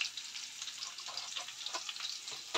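Potatoes frying in a pan for a bitter gourd dish, a steady close bright sizzle with small popping crackles and no talk.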